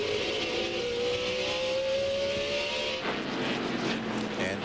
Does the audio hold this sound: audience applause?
no